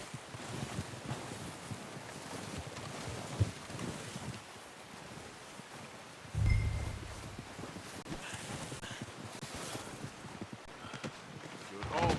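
Horse hooves clip-clop in Red Dead Redemption 2, a steady patter of moderate loudness under wind and ambient game noise, with a heavier thud midway.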